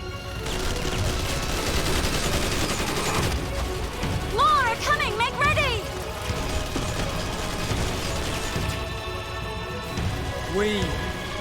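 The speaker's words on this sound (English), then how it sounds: "Ambush! Fucking minigun?" Minigun fire in the video game Final Fantasy XIV Endwalker, a sustained rattling barrage running under game dialogue and voices throughout, with clanking weapon and mechanism noises mixed in.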